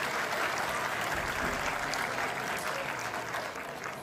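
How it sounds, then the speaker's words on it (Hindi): A large audience at a CRPF battalion event applauds continuously and loudly, a dense, even roar of many hands clapping at once that holds steady throughout. "जब हम तालियां बजाते हैं तो वो भी दिल से बजानी चाहिए"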